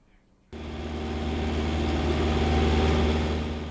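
A race car engine starts abruptly at the Gator Nationals at Auto Plus Raceway and holds a steady, building rumble with a rising drone, loud and close, no voices over it.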